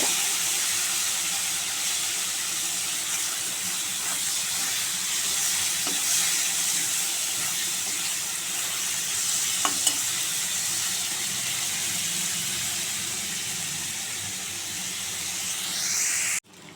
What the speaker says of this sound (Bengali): এবার চিংড়ি মাছটা আমি ভেজে নেব